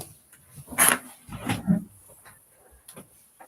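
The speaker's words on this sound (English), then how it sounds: "I can hear my dog" A dog outside in the snow makes a few faint, short barks or whines with gaps between them, heard from a distance in a quiet indoor room.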